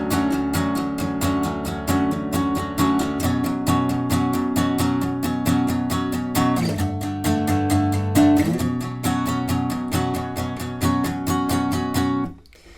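Acoustic guitar playing the chords of a song with all down strums, a steady, even run of loud, regular strokes with a brief change partway through, alone with no talking, ending abruptly.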